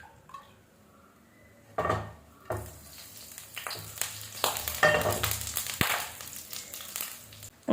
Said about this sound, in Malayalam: അങ്ങനെ ചൂടായ വെളിച്ചെണ്ണയിലേക്ക് ഞാൻ കുറച്ച് കറിവേപ്പില ഇട്ട് കൊടുത്തിട്ടുണ്ട് കേട്ടോ.